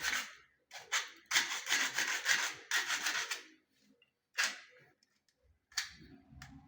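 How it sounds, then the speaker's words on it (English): A blade cutting down a part while a close-coupled cistern tank is installed: quiet rasping strokes in uneven bursts separated by short pauses, with a few isolated scrapes near the end. "then you reduce them using a blade or a cutter, which you usually use"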